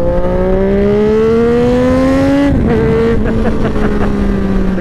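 Triumph Street Triple 765 RS motorcycle engine revving hard as the bike lifts into a wheelie on a road ride, its rising pitch climbing steadily, then a sharp gear-change dip before the loud, close engine note continues amid wind noise.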